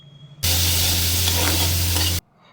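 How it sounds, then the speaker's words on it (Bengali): Chopped onion and garlic dropped into hot mustard oil with cardamom and cinnamon, a sudden loud sizzle that holds steady for under two seconds before cutting off, with a low hum beneath. "কেট করা পেঁয়াজ আর রসুনটা দিয়ে একটু ভাজা ভাজা করে নেব"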